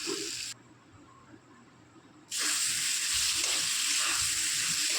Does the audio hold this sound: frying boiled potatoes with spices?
yes